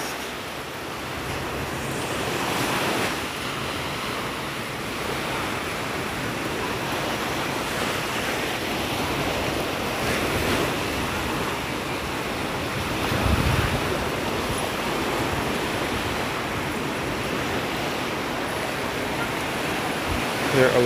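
Ocean waves wash steadily onto Hastings Beach in Barbados at night, a continuous broad roar of surf with wind noise and a slightly louder surge near the middle.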